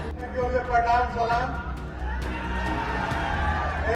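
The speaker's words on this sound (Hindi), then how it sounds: "जनता ने तालियों की गड़गड़ाहट से उनके भाषण को सराहा" A rally crowd in Raghunathpur, Siwan, breaks into loud applause and cheering for a politician's speech, with a voice heard over the hubbub at first before the dense, steady clapping and crowd noise take over.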